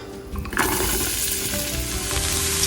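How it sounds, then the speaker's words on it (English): Onions sizzle in a skillet for a sausage, kale and white bean soup. The hiss is loud, close and continuous, with a brief clatter near the start and no talk. "We're going to go ahead and add the onions and get the rest of this soup started."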